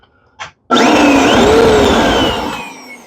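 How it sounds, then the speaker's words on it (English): A Riccar canister vacuum motor kicks on after a brief click and runs with a loud, steady whine and roar for about two seconds, then begins to wind down. "And the motor sounds fantastic."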